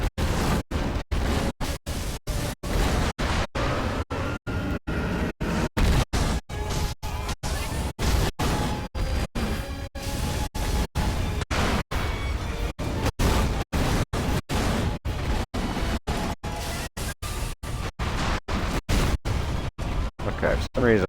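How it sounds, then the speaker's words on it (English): Firecracker prosthetic tool bursts in Sekiro crackle in a rapid, even chain of sharp pops that runs loud and close throughout, with combat noise layered underneath. "for some reason my firecracker is like doing something to him as well"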